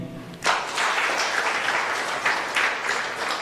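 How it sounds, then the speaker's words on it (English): An audience applauds the First Lady at a ceremony announcing national primary exam results, with clapping swelling suddenly and holding steady as a broad, continuous wash for about three seconds. "And an exceptional round of applause to the First Lady,"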